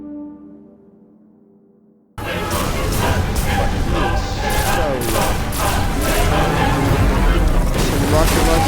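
Rocket launcher fire and explosions in the video game Destiny, a quiet tonal lull suddenly broken by a loud blast followed by sustained rumbling booms and crackling debris that continue to the end.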